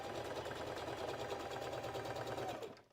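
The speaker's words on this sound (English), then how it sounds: "I'm just gonna feed this through the machine, lining up that center notch" A sewing machine runs a 5/8 inch seam on a McCall's M8383 Valentine's Day dress, a steady, close, continuous motor whir with rapid needle clatter, cutting off at the end.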